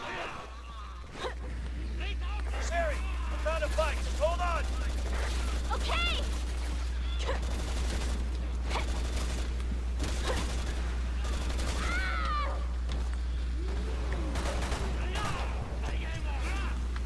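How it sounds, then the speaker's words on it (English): Steady gunfire and heavy blasts from a tank's cannon in Resident Evil 6, a constant low rumble running underneath the shots, with a voice gasping and speaking over the combat. "Now the tank's fire is going to be on you."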